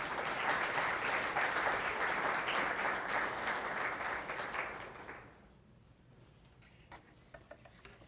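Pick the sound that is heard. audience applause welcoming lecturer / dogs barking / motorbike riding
audience applause welcoming lecturer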